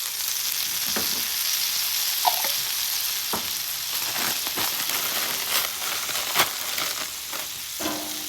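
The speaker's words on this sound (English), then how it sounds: "Let that garlic warm up." Garlic warming in a little avocado oil on a flat-top griddle makes a steady, close frying hiss, with a few light scrapes and taps scattered through the sizzle and no speech.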